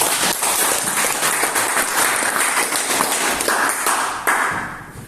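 University students in a polytechnic classroom applaud loudly and close by. Brisk, irregular hand claps run through the full span with a few sharper individual slaps standing out.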